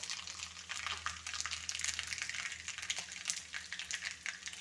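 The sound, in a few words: mustard seeds spluttering in hot coconut oil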